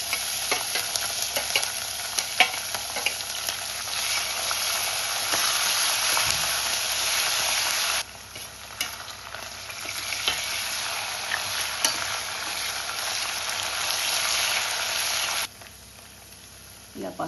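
Green chillies and grated ginger frying in a pan, a loud continuous sizzle with stirring scrapes, the hiss cutting out briefly twice and dropping away near the end, with a voice faintly heard.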